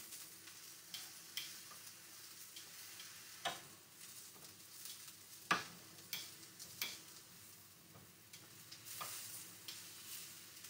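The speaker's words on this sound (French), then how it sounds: "pendant que nos aubergines sont en train de cuire" Aubergines fry in a pan for a homemade moussaka, a steady, quiet sizzle broken by scattered sharp stirring scrapes and taps, close by, with no talking.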